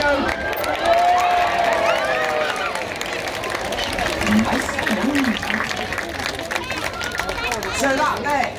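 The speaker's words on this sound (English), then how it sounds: "we're going to give him a massive cheer" A safari park audience at an outdoor show cheers and claps as a crowd, a loud rising babble of voices and applause while a presenter talks over it.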